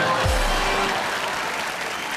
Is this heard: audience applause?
yes